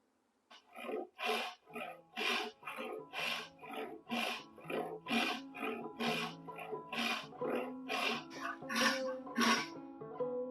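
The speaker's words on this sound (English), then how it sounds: "I'm ready to rip it, and I'm just going to do that with the handsaw" Handsaw ripping a board lengthwise for a baritone banjo build, steady rhythmic rasping strokes repeating roughly twice a second, close and fairly quiet, with no talk over it.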